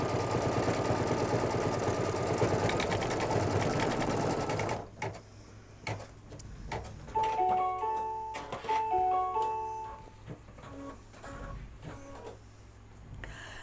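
Embroidery sewing machine stitching an in-the-hoop mug rug, a loud steady mechanical whir for about five seconds, then quieter irregular clicks, thumps and short tonal beeps as the machine stops and pauses.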